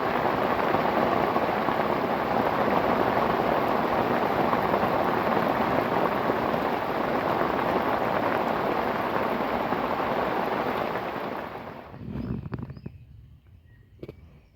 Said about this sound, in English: Hopefully that's the last of the rain.